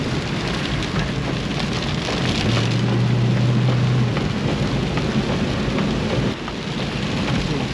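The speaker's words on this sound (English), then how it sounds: "Quick update, it's raining." Heavy rain drums steadily on a Ford Mustang while driving the Ennstal-Classic rally, a dense, loud, unbroken patter close overhead with low rumble underneath, no voices.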